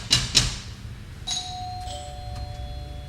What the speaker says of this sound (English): They even got the automatic doorbell.